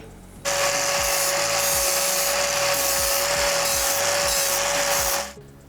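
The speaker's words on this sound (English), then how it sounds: "now just a grinder and flatten that out a bit" An angle grinder flattening freshly cut metal on a Nissan Skyline GTR chassis during a front end conversion, a loud steady high-pitched whine with a sustained tone running continuously for about five seconds, starting and stopping abruptly.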